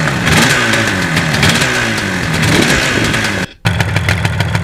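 A 1977 Yamaha RD400 two-stroke motorcycle engine revs loudly and continuously up close, with a raspy buzzing tone, a brief cut-out near the end, then picking right back up.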